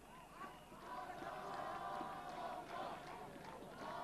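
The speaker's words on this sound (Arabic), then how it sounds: "الجماهير بتقول بندق، ده لقب خالد الغندور" Football stadium crowd at a Zamalek versus Mansoura Egypt Cup match chanting a player's nickname, a broad distant roar of massed voices swelling and holding steady under a commentator's voice.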